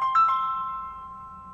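An incoming phone call chimes in a PvP video game, with a couple of quick ringing tones that leave a clear sustained note fading slowly into quiet.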